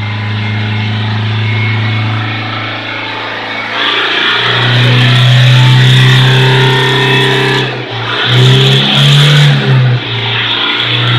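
A Toyota Fortuner engine running close by, with a steady low idle that rises into a sustained rev, dips briefly, then revs again before settling back, loud throughout.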